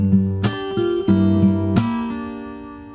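Fingerstyle acoustic guitar bar with plucked ringing notes broken by several sharp percussive slaps on the body, played close and alone, the last chord fading out.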